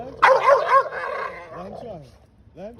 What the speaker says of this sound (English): You got 2 dominant male dogs. They don't need to meet first and foremost. And then obviously one is showing a ton of aggression.